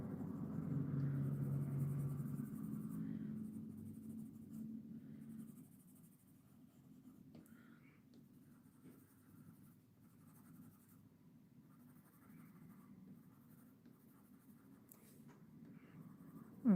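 Colored pencil burnished with a white pencil over a turkey coloring page, a steady soft scratchy rubbing that runs continuously, louder for the first few seconds and then quieter and more even.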